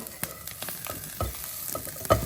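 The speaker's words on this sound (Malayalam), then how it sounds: "ഫ്രൈ ചെയ്തെടുക്കാം തേങ്ങ ഒരുവിധം മൂത്തിട്ടുണ്ട്" Grated coconut and coriander leaves fried together in a pan for egg churuttu curry, giving a soft continuous sizzle broken by a few quick spatula taps and scrapes. No one speaks.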